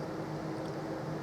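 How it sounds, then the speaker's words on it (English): An air conditioner hums in the background on a hot day, a faint steady drone with a low tonal hum that stays even throughout, with no voices over it. "If you hear a noise in the background, it is my air conditioner"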